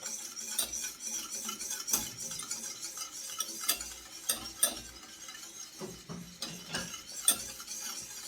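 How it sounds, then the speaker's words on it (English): A whisk scrapes and clinks against a pot of Jamaican cornmeal porridge, quiet irregular taps and swishes with occasional sharper metallic knocks, close and fairly faint. "so why I whisk is to prevent the porridge from forming lumps"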